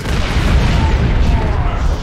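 A melta bomb in Warhammer 40k: Dawn of War II erupts as a loud, dense, low rumbling blast that holds steady for about two seconds within busy battle noise.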